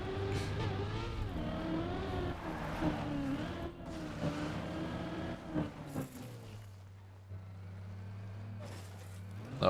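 A video-game car revs and accelerates in a racing game, its engine note climbing and shifting steadily through the clip, then settling into a lower sustained drone, loud and continuous with brief bursts of other game noise.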